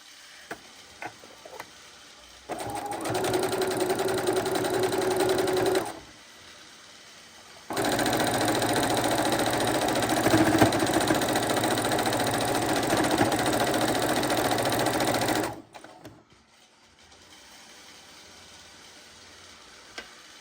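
A sewing machine stitches scrappy quilt pieces together in two steady runs, a short burst then a longer stretch, separated by pauses with quiet handling sounds, close and fairly loud.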